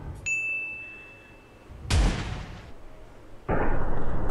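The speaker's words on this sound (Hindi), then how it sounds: "शॉटगन लेके" In the mobile game PUBG Mobile, two sharp, booming shotgun blasts ring out about a second and a half apart, following a brief metallic ding at the start. No one speaks.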